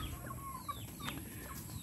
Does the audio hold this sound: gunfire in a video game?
no